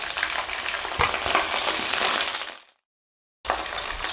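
Crushed turkey berries hit hot oil in a pan and sizzle loudly and steadily, with a brief stir clatter, a short gap of silence, then the frying resumes close up.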